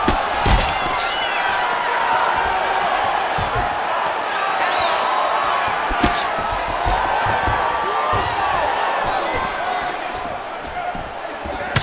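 Arena crowd noise from the UFC 5 video game during a simulated women's fight, a loud, continuous roar with rising whoops and cheers and a few sharp thuds, under steady commentary from a voice.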